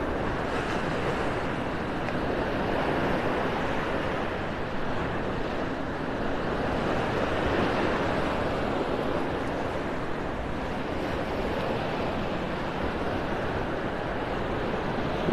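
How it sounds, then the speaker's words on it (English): Ocean waves roll over a sandbar off a beach in North Naples, Florida, a steady broadband wash of surf mixed with wind noise, continuous and moderately loud with no talk. "Those waves are kind of rolling over the sandbar out there this morning."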